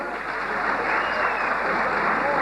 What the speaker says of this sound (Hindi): Congratulations दोस्तों, तालियां हो जाए।